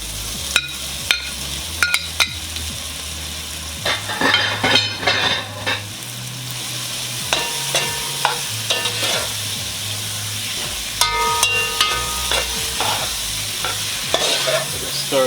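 Sausages and vegetables fry in a pan with a low continuous sizzle, punctuated by sharp clatters and scrapes of a utensil stirring and tossing the food, close up and without talk.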